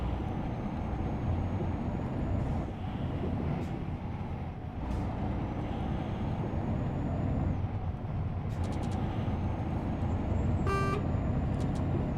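A truck horn in Euro Truck Simulator 2, heard on a mountain road with an excavation trailer, gives one short tonal blast near the end over a steady engine drone and faint mechanical hisses.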